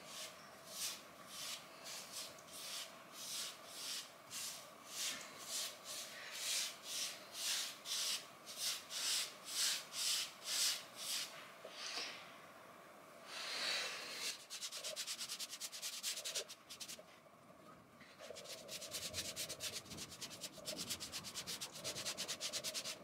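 A paintbrush works textured paint onto a wall in a crisscross motion, making rhythmic scratchy rubbing strokes, steady and close. There is a short pause, then a run of quicker, denser strokes.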